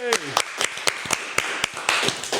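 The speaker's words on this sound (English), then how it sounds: "Round of applause for Shirley!" A handful of people in a podcast studio give a short, sharp round of claps, each clap crisp and close to the microphone, with a voice cheering at the start.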